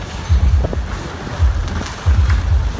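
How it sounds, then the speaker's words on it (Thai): Strong gusts sweep through an outdoor concert ground in Satuek where corrugated metal fencing is being blown over, producing low rumbling bursts of wind buffeting the microphone three times in quick succession. "ผมลมแรงขนาดนี้ครับ"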